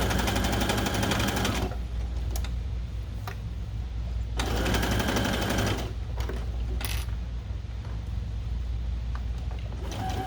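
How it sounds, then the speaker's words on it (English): Sewing machine stitching a seam on a Monsters, Inc. Boo costume, a loud mechanical rattling whir in fast bursts separated by brief pauses, close up, with no talking. "how you're going to place it onto the machine"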